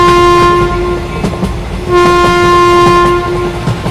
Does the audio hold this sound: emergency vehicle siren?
no